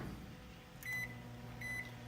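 A lab microwave oven heating 50 millilitres of agarose solution hums steadily up close, with two sharp electronic beeps sounding about a second apart over the drone.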